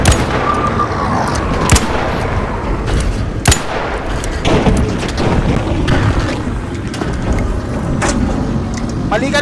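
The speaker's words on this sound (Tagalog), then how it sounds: "Parang may bumabaril si RC" Gunfire echoes through a match of ARC Raiders: sharp, scattered shots and bursts crack over a constant rumble of wind and engine-like noise, while players talk throughout.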